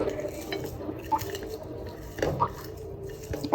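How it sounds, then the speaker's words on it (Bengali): Dried chilies are mashed with salt by hand, giving soft, wet squishing and rubbing sounds close up, with light clinks of a dish and a louder scrape at the end. "আর এখন হচ্ছে আমি মরিচটা মাখাবো"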